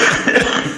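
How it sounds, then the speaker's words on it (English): A single loud, close cough bursts out, a short rough expulsion of breath heard on its own. "It's not a continuous cough."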